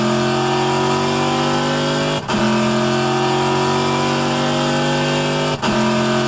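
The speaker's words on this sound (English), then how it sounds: "that giant V8 torquey beast inside that vet" Corvette race car with a big V8 engine at Suzuka in a racing game, droning loud and steady at high revs, with two brief dips where the engine note drops for a gear change before climbing again.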